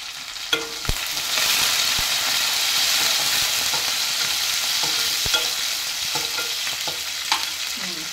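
Cumin, fenugreek leaves and green chillies frying in hot oil make a continuous, close crackling sizzle, broken by occasional scraping and tapping strokes of the spoon in the pan, with no voices.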